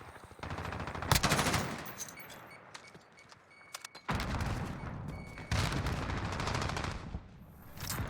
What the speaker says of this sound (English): still holds and gets the kill with the pistol